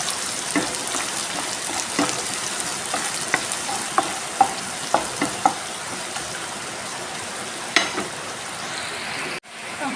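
Chopped ginger, garlic and shallots sizzle steadily in a hot pan while a spoon stirs them with repeated scraping clicks, close and fairly loud, the frying hiss continuous throughout.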